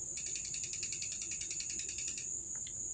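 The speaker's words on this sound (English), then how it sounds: "So now I've got to adjust the brake caliper and get it so it's not rubbing" Brake caliper adjustment on an ice trike gives a quick run of rapid, evenly spaced ratcheting clicks lasting about two seconds, followed by a couple of faint ticks, close and quiet in a still space.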